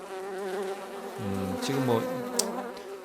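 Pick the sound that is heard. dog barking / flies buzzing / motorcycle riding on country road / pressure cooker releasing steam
flies buzzing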